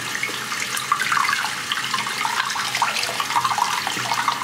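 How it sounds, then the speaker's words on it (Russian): Water runs in a steady, close stream over an Adidas Eastrail GTX walking shoe, giving a continuous splashing trickle like a tap left running, with no talking. "вот по поверхности вода просто стекает и вовнутрь не попадает"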